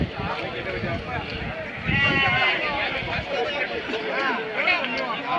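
Lambs bleat repeatedly at a crowded livestock market in Tumakuru, their calls rising over a steady babble of many people talking nearby.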